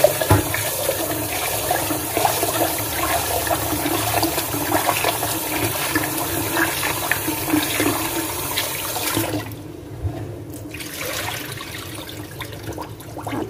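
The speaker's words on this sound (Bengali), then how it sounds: "ভাতের চালটা ধুয়ে নিই" Raw rice for cooking is rinsed in water, a steady wash of running, splashing water filling most of the time before a brief quieter pause and the water resumes.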